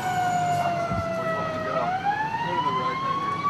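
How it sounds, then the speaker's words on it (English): A fire engine siren wails continuously as the truck arrives first on scene at a house fire in the suburbs. The pitch sweeps slowly up and down, loud and close, over a rumbling engine. "Captain Dom Jewell and his crew on Engine 4 arrive on scene as first in."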